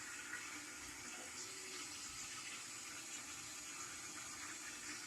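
A little water is poured into a pan holding buttered, spatchcocked chicken, giving a faint, steady trickling wash that runs evenly for several seconds with no talking.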